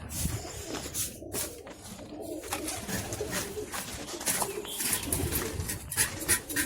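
Pigeons cooing amid a busy, noisy background of rustling and patter, with the soft calls running steadily throughout.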